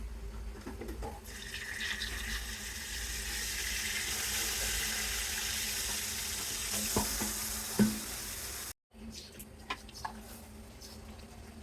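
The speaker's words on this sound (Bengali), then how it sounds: "এখন মেখে রাখা মাংসগুলো দিয়ে দেব।" Marinated mutton sizzling as it hits onions already fried red, then stirred in a pan with a steady loud hiss, some scraping clinks and a brief break near the end.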